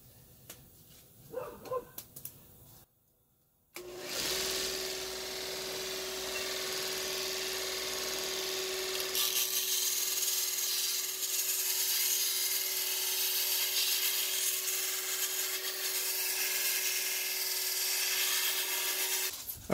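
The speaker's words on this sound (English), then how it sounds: "the next thing I'm going to do is deburr as much as I can on the belt grinder here" Belt grinder running a Scotch-Brite style abrasive belt while deburring large metal brackets: after a brief pause, a steady motor whine with a broad rushing abrasive hiss that holds continuously, no talking.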